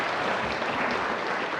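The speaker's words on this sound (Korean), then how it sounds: "뜨거운 박수로 우리 한번 환영해 주시기 바랍니다" A church congregation claps warmly during a Korean Sunday worship service after an infant baptism: a brief, even wash of applause from many hands.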